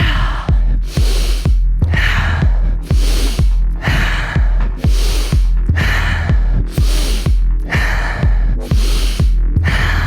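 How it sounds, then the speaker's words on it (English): Deep Wim Hof method breathing, forceful inhalations through the nose and exhalations out of the mouth in a steady repeating rhythm, about eight loud close breath cycles with no talk. "So now let's start breathing. Inhale into your nose. Exhale out of your mouth."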